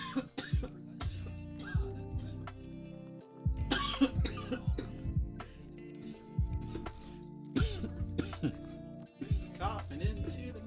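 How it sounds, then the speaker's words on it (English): Several sharp coughs sound close to the microphone during a live stream, spaced out over steady background music, with a voice talking at times. "Coughing into the microphone."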